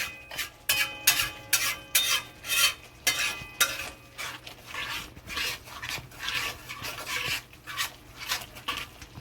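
An egg masala mixture for a tawa egg masala is stirred and scraped in a pan in a steady rhythm of rasping strokes. A soft sizzle runs underneath and no one speaks.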